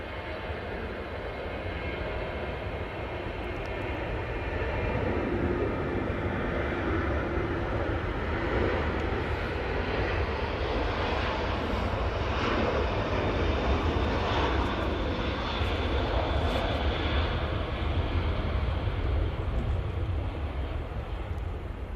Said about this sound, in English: Ryanair's getting in the way of me reading out little Jill's thing there. Thanks, Ryanair. As always, try to ruin things. Off to Rabat on the 737-800.